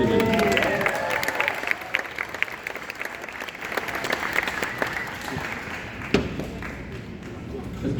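Audience applause at a school band concert after a first-division duet performance, a steady wash of clapping with some cheering, fairly loud throughout and tapering slightly near the end.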